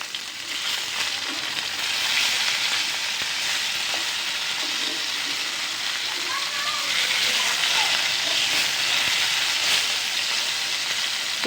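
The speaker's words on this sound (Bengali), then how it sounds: "মাছটা হয়ে গেছে, এক পিস উল্টে পাল্টে দিব এখন।" Pieces of fish sizzle in a hot flat pan after being turned, a dense, loud, close crackling hiss that holds steady with faint bubbling underneath.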